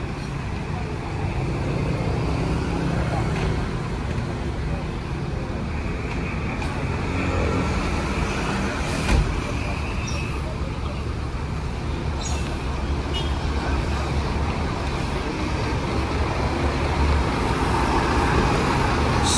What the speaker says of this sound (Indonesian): ini langsung saja diberangkatkan Rosalia Indah rute Jogja Klaten via Magelang ya